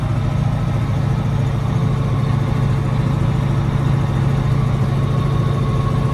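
A Massey tractor with a modified exhaust idles steadily up close, its low, even rumble running continuously without a break and without any voices.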